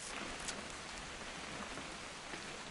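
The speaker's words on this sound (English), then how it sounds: "It's gonna rain the whole weekend" Steady rain falling in the game What Remains of Edith Finch makes a dense, even hiss of drops on surfaces, constant and moderately quiet throughout, with no voices.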